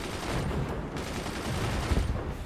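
Sandbagged machine gunners in the Forts strategy game rattle off dense, overlapping bursts of automatic fire, a continuous crackling barrage with a few heavier impacts mixed in.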